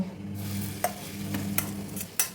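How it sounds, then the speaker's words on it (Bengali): Shredded cabbage tipped into a lightly oiled pan for a cabbage omelette, sizzling and frying steadily close up, with a few sharp scraping stirs cutting through the hiss. "এবার এই বাঁধাকপিটা এর মধ্যে ঢেলে দেব"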